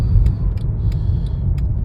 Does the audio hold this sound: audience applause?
no